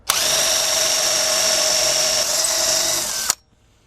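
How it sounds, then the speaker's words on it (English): A power drill with a 1/4 inch bit whines loudly and steadily for about three seconds, drilling out a bolt head on a Honda Accord, its pitch shifting slightly near the end before it cuts off abruptly. "I'm using a 1/4 inch drill bit to remove the head"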